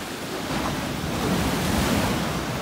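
Sea waves washing in as the tide rises along a shore, a steady broadband surf roar with wind buffeting the microphone, fairly loud and continuous throughout with no talking.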